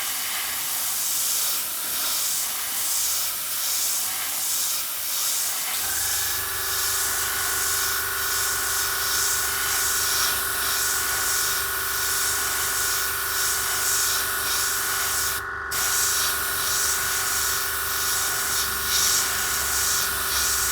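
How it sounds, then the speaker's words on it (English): An airbrush sprays acrylic paint thinned with a few drops of thinner, giving a steady, close, continuous hiss with a faint mechanical hum underneath that runs without a break from about five seconds in. "So let's airbrush this and see how it looks."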